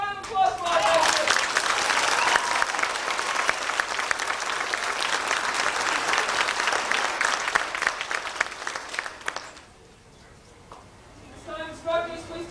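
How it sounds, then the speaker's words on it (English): An audience at an Air Force graduation ceremony applauds loudly and steadily for about nine seconds, then the clapping drops off sharply and a few voices and scattered claps follow. "So a round of applause for our Air Force."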